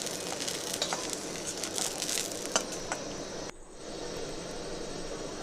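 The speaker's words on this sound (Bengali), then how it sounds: "তেলটা গরম হয়ে গেছে, বেগুনগুলো ভেজে নেব। নেড়ে নিচ্ছি।" Eggplant fries in hot oil for a Bengali mixed vegetable curry, a faint, steady sizzle with light crackles close by that dips briefly midway, with no talking.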